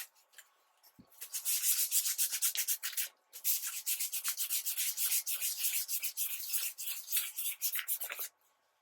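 Hand sanding with 220-grit sandpaper removes wood filler from carved cherry wood, a quick series of close, rhythmic scratchy rubbing strokes with one brief pause partway through, no talk.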